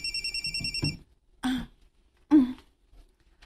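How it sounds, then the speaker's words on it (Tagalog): A telephone rings with an incoming call, a short burst of electronic ringing followed by a couple of quiet gaps with small rustling noises and a throat clearing. "Ngano nanawag maning akong amahan?"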